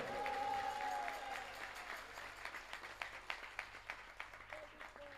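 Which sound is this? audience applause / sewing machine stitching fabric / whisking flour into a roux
audience applause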